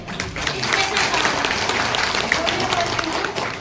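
A women's group at a Women's Day gathering breaks into continuous, lively applause, a dense clatter of many hands clapping close by, with some voices mixed in.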